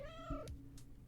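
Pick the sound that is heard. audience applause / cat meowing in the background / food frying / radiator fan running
cat meowing in the background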